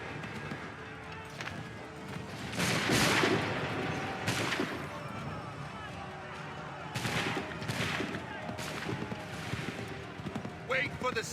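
Musket volleys crack out in a Revolutionary War battle game scene, several loud broadband bursts in irregular clusters over a busy backdrop of battlefield noise and shouting voices.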